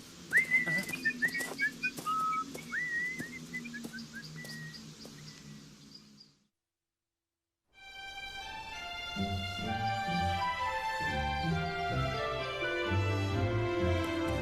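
Cartoon characters whistle a jaunty tune while walking, bright warbling notes close and clear, then a brief silence before orchestral music swells in.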